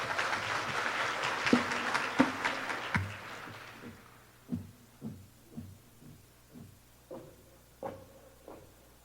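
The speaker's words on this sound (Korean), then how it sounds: "다시 한번 힘찬 박수 부탁드리겠습니다" Conference audience applauding a speaker at a 2019 nuclear safety regulation meeting in Busan; a broad wash of clapping fills the first few seconds, then fades into a series of soft, rhythmic low thumps.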